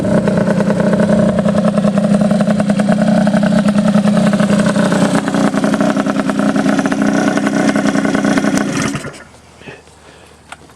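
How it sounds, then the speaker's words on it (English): Motorcycle engines being warmed up for the season, including a Honda Dio fitted with a race exhaust pipe, run at a loud, close, buzzing steady idle with light revving for about nine seconds before cutting out abruptly. "I'm going to bring my other bikes out too, just to warm them up for the season"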